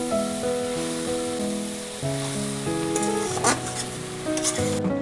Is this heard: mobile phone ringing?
no